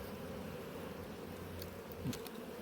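Honey bees from a colony at an apiary hive, a steady, dense buzzing drone heard close and alone, with a faint low thump near the end.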